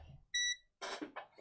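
A single short electronic beep from a computer as its power button is pressed during CPU chiller diagnosis, clear and close, followed by brief bursts of noise.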